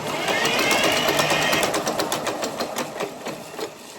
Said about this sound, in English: you didn't hear any compression at all